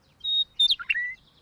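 A small cartoon bird sings loudly and close: a sustained high whistle, a quick burst of chirps, then another long whistled note, with no talking.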